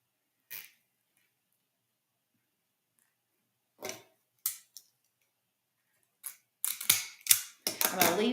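Eucalyptus stems are snipped for a winter wreath, sparse sharp clicks and crisp cuts spaced apart, closer and busier toward the end with rustling foliage.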